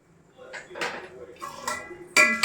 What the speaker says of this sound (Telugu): వేసుకొని పులుసు అనేది కొంచెం చిక్కబడేంత వరకు అయితే కలుపుకుందాం